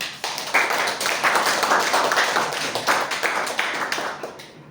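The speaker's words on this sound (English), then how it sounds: "Let us, with a big round of applause, call upon Toastmaster Tarun." Audience applause at a Toastmasters meeting, a steady round of clapping from a roomful of people lasting several seconds, rising quickly, holding dense and lively, then tapering off at the end.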